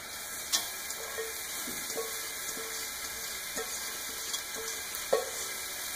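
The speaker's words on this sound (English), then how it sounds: "I'm going to go ahead and put my butternut squash in" Butternut squash sizzling in a hot pan, a steady soft hiss throughout with a few faint pops and ticks scattered over it, fairly quiet and close, with no talking.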